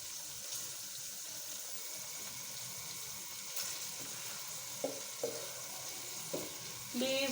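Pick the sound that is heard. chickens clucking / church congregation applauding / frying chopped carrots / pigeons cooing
frying chopped carrots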